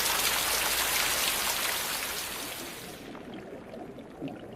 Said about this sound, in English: Their waxy rosettes of leaves channel the rain into a central tank.